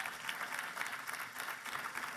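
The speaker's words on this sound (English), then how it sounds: "How about another round of applause for Manuel" Sustained applause fills a gala hall in 2021, a dense, even patter of many hands clapping at moderate distance with no pauses.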